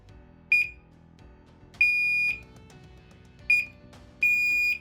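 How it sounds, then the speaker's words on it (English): A LINKD carbon monoxide alarm sounds during reset with four sharp high-pitched electronic beeps, two short and two longer, in an uneven pattern over quiet background hum. "And finally, we reset the carbon monoxide alarm."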